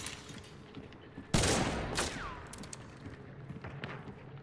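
A silenced Winfield rifle fires in the Hunt: Showdown video game, one sharp muffled crack followed by a short decaying tail and some faint game ambience.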